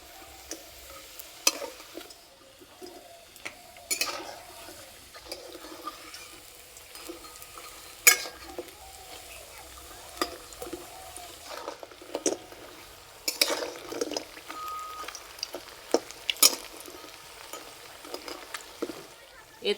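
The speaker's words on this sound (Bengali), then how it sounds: "একটু সময় ধরে আস্তে আস্তে ভেজে নেব," Rice flour pithas deep-frying slowly in hot oil, with a soft, steady sizzle broken by scattered clicks and taps of a utensil against the pan, fairly quiet throughout.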